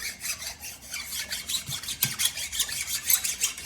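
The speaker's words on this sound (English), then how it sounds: "You're going to take a bastard file and just kind of go over this." A bastard file deburrs a new ring gear from a Jeep Gladiator axle, producing quick, rhythmic rasping strokes close up.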